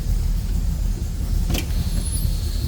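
A 1973 Ford Mustang convertible engine idles with a steady, deep rumble, broken by one brief click partway through.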